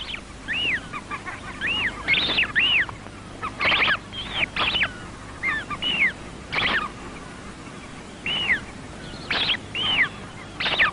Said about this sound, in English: The chick inside seems determined to make himself heard. His older brother is answering him.